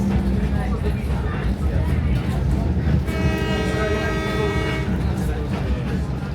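A loud, steady rumble of a train to Machu Picchu with a horn-like tone sounding in the middle, sustained for a couple of seconds over the continuous roar.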